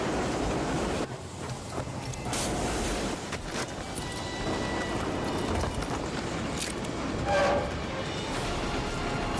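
A train rumbles past in the Western video game Rootin Tootin Vampire Shootin, a steady, loud rolling roar with clattering wagons and a brief horn-like tone near the end, no voices.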